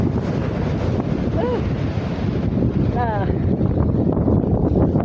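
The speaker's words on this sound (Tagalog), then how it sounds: "It's very windy, still windy, and the sea is like very angry." Strong wind buffets the microphone over rough, storm-churned sea at La Union in the Philippines, a steady loud roar of surf and gusts throughout, with faint brief voices or bird calls in the mix.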